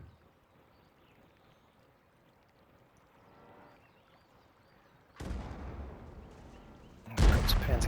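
In a tank battle video game, a tank's main gun fires a heavy, booming shot, followed moments later by another loud blast that ends the clip.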